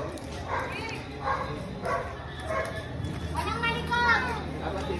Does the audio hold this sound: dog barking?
yes